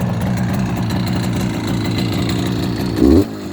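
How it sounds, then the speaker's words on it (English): A 1967 Yamaha YCS1 Bonanza 180 twin-cylinder motorcycle engine with freshly tuned carburetors idles close by with a steady, loping chug, briefly blipping the throttle near the end. "Got the idles and the carburetors tuned up, so it's idling nice on both cylinders."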